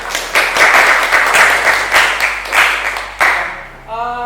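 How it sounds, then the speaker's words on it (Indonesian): A classroom of students claps for a classmate who came forward to present, loud, close, rhythmic clapping in waves that stops abruptly near the end as a voice begins. "kesempatan pertama kita beri tepuk tangan untuk Bahrul terlebih dahulu yang telah berani maju"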